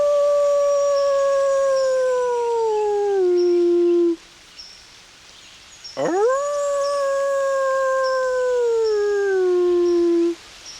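A person imitates a wolf howl near curious wild wolf pups in an old beaver meadow, giving two long, clear descending howls, each sliding down in pitch, separated by a short pause.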